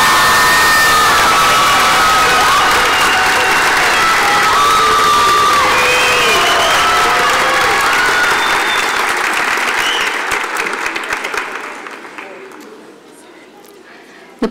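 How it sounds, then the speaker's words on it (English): A crowd at a high school graduation ceremony breaks into loud applause with cheers, whoops and shouts when an excellence in music award is named, the clapping going on for about ten seconds before fading away. "I know this one is going to get a loud applause"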